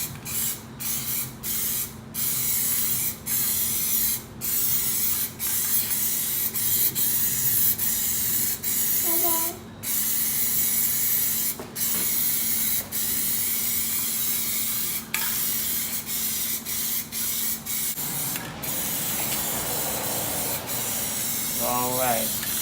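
Plasti Dip aerosol coating sprayed onto car rims in long, steady hissing bursts that run almost continuously, with brief gaps between passes and a faint hum underneath.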